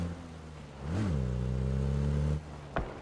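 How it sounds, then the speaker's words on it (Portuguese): A car engine in PUBG BattleGrounds swells into a loud rev that holds for over a second and then cuts off, followed by a brief clunk. "Isso não é avião não, isso é carro."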